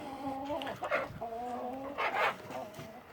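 About nineteen hens clucking inside a chicken shed with perches on an allotment, several birds murmuring and clucking continuously at close range, fairly quiet and with no talk.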